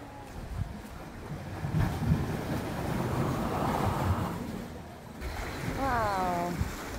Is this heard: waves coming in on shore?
yes